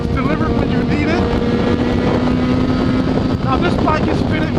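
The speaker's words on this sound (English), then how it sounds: "Now this bike is fitted with a power commander and an aftermarket exhaust." A Honda CBR600RR sport motorcycle fitted with an aftermarket exhaust and a Power Commander runs at a steady, loud engine drone while riding, with heavy wind buffeting across the microphone throughout.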